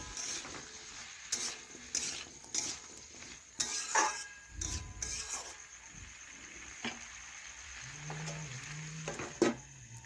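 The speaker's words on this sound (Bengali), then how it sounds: "আবার একটু নাড়াচাড়া করে নিচ্ছি" Vegetables frying in a pan are stirred, with intermittent scraping and clinking of a utensil against the pan over a soft sizzle, in short bursts followed by quieter pauses.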